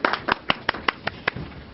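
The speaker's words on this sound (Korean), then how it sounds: "박수 좀 쳐도 되는데." A small audience claps at a joint campaign pledge event for Democratic Party candidates in Wonju, a brief sparse burst of about nine distinct hand claps, fairly close, fading within two seconds.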